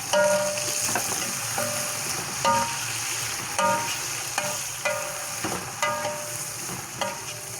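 Ginger paste sizzling in a hot pan for chicken biryani, a steady close fry with periodic scraping stirs of a spoon against the pan roughly every half second.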